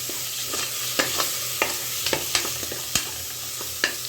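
Chopped onions and a medium tomato sizzle steadily in a pan for mutton leg paaya soup, with a constant frying hiss broken by frequent close clicks and scrapes of stirring.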